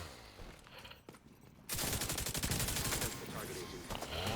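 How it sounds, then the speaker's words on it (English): Rapid video-game gunfire from several enemies at once, starting quieter then bursting into a loud, dense fusillade of overlapping shots that continues to the end. "So I'm getting shot by multiple guys at once."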